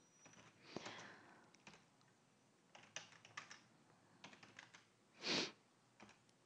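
Typing on a computer keyboard, with quiet scattered clicks and short bursts of keystrokes at irregular intervals. One louder, longer burst stands out near the end. No one is speaking.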